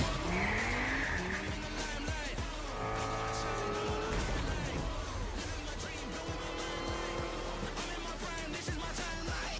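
A car engine from an Xbox racing video game roars continuously while tires squeal and skid in several sharp bursts, loud and close throughout the stretch.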